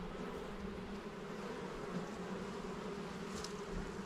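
Honey bees buzz around a hive during an early-spring apiary inspection, a steady, dense drone that continues unbroken throughout and carries no speech.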